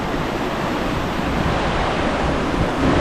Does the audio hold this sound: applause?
no